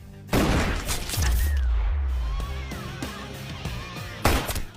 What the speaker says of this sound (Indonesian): John menembak teman Paijo yang sedang main PUBG beserta para pengawalnya.